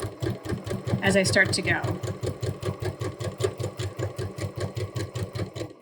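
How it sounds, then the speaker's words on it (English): A sewing machine stitches a sleeve hem at a steady fast rhythm, its mechanical chatter running evenly throughout while someone talks over it briefly. "I'm going to drop my needle, do a quick back stitch"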